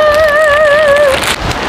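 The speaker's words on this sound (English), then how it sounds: "suddenly it's heavy raining outside" Heavy rain falls outside as a loud, dense, steady hiss, with a faint wavering whistle-like tone through the first second.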